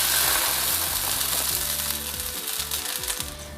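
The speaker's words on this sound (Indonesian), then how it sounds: "tumis bawang putih dan jahe. Tumis sampai kurang lebih harum" Garlic and ginger sautéing in a little leftover oil in a pan, a loud, steady close sizzle with faint stirring scrapes running through, no voices.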